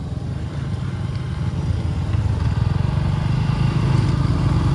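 A motorcycle riding along a road, its engine a steady close rumble with rhythmic low pulsing that grows slightly louder, with no talk over it.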